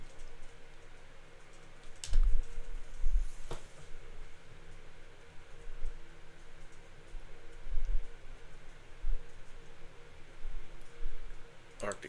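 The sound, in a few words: typing on a computer keyboard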